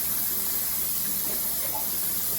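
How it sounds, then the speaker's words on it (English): Tap water hisses and sprays steadily as brine is rinsed off a refrigerator-cured halal corned beef, a continuous broadband rush with no pauses, close and fairly loud. "I'm going to rinse that brine out."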